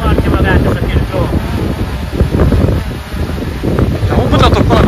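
Strong wind buffets the microphone outdoors while a DJI Mini 3 Pro drone is flown, a loud, continuous low rumble with gusty swells throughout; faint voices may sit under the noise.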